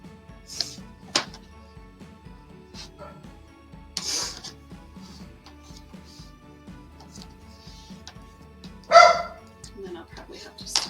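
Dogs indoors give a handful of sharp, separate barks spaced across a mostly quiet stretch, the loudest and last one near the end.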